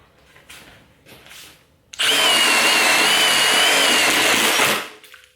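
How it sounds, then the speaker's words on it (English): A cordless impact driver drives a screw into wood with a loud, dense rattling whir lasting about three seconds. Faint, quieter sounds come just before it starts, and the run ends abruptly. "Remembering the benefit of the impact driver is those blows of impact as it rotates"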